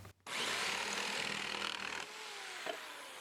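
A power saw cutting the excess off a small scrap wood dog tag, a continuous close buzzing cut that starts abruptly and eases off near the end, with no talk.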